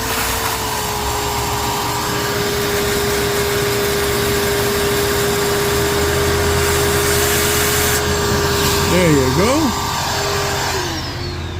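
A shop vac runs close by with a steady, loud roaring whoosh that holds throughout, and a brief warbling whine rises near the end.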